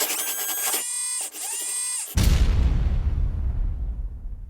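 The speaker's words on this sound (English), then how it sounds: "this CoreXY printer started operating with the first prints" A large homemade CoreXY 3D printer, the LeXY BIG, runs with whining stepper motors that shift pitch in short moves, then gives way to a loud, broad rushing noise that slowly fades.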